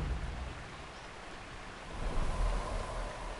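Continuous broadband rushing of a waterfall in the fantasy role-playing game Das Schwarze Auge: Memoria, a steady dense roar that swells slightly louder toward the end, with no talk over it.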